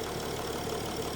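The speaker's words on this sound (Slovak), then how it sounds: "Okrem toho, že ten motor občas kopce a nejde pravidelne." Diesel engine of a Mercedes CLS350 CDI idling under the hood, running unevenly with an oil leak, a steady close mechanical drone with faint irregular knocking and no talking.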